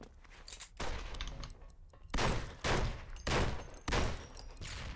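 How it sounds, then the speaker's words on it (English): Explosions go off in the video game Mortyr IV: Operation Thunderstorm as a series of heavy booming blasts, some rapid and clustered, with louder thuds evenly spaced near the end. No speech. "this explosion usually kills you, but standing in this corner, it doesn't reach you"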